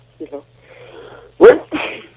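A voice murmurs briefly, then one sharp, loud sneeze bursts out, followed immediately by a short spoken phrase.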